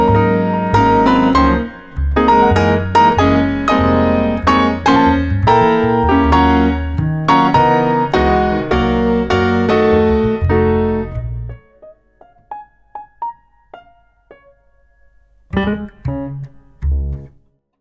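Jazz piano played very loud, dense block chords and driving left hand for about eleven seconds, then sparse single notes and a short loud burst of chords near the end.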